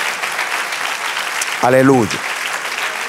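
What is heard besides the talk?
church congregation applauding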